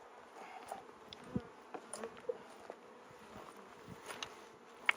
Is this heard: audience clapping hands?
no